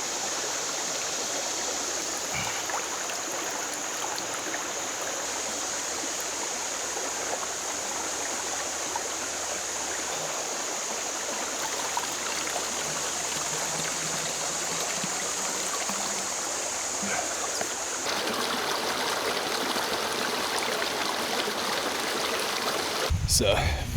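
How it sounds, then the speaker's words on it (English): A creek runs steadily along a forested backpacking trail in Red River Gorge, giving a continuous broadband rush and gurgle close by, with no voices over it and a brief clunk at the very end. "I hear some running water"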